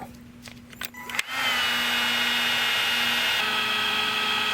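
A Milwaukee cordless heat gun starts up after some handling clicks, then runs with a steady, loud fan whine and airflow hiss.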